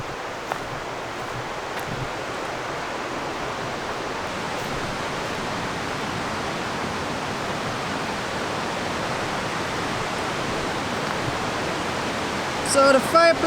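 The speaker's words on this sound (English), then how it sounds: "it's got a river too" Steady broadband rush of a river flowing beside a backcountry campsite in British Columbia, constant and fairly close, with a brief clatter near the end.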